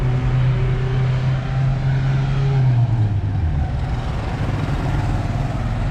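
A car with a K24 engine pulls hard at a car meet, its engine note loud and close, holding a steady drone and then dropping in pitch as it accelerates away.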